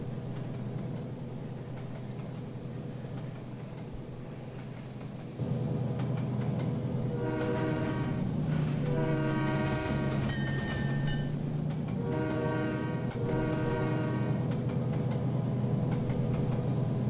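The generic default horn on a Santa Fe Aerotrain in the Trainz train simulator game sounds in several long, steady blasts over a continuous low engine rumble, with no one speaking.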